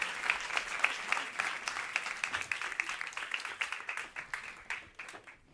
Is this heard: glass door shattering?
no